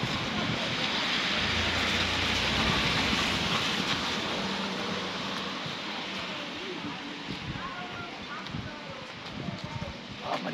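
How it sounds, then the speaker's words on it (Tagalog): Steady, dense rain hissing across a wide band, with low rumbling vehicle noise underneath and no clear speech. "Oh, maligo tayo ng ulan."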